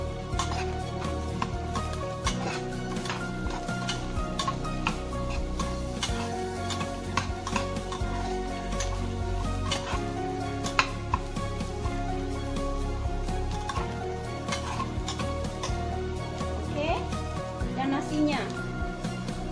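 Ingredients for dried-shrimp fried rice are stir-fried in a pan with quick, repeated scraping and tapping of a utensil, under a steady sizzle, while someone talks over it.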